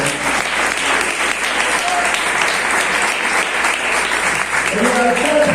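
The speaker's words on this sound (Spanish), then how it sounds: "Den un fuerte aplauso al Cristo." Church congregation applauding loudly during a sermon, a steady dense wash of clapping throughout with voices mixed in near the end.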